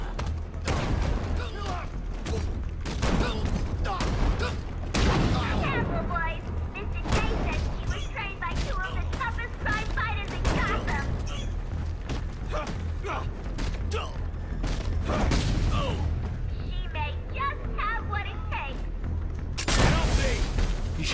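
Gunfire bursts in the video game Batman Arkham Knight, repeated sharp shots scattered over game sounds with mechanical clanks, while a person talks throughout.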